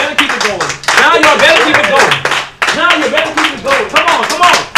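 A church congregation clapping hands together in steady rhythmic bursts during praise, loud and close, with a preacher's voice calling out over the claps.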